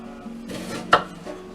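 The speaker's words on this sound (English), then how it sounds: "So we're going to cut them nice and thin." A knife slicing vegetables thin on a cutting board while preparing cheesesteak eggrolls: a soft drawn cut followed by one sharp, close chop against the board and a faint low hum underneath.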